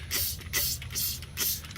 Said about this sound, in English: spray it all over the seats and let it sit for a little while